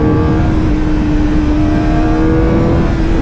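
A Kawasaki Ninja ZX4RR motorcycle accelerates hard on a tight country road to overtake, its engine whining and rising steadily in pitch, loud and close with constant wind rush.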